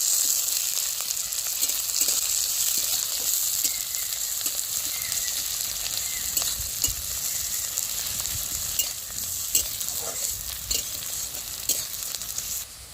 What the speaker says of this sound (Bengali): দিয়ে এবার ভালো করে আমি পেঁয়াজটা ভেজে নেব।